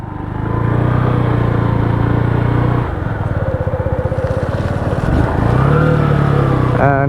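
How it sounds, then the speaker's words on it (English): A Lexmoto ZSB motorcycle starts up and pulls away, its steady engine drone loud and close throughout, with the note rising as it rides off along leafy roads. "side stand up, start the bike up and we are off"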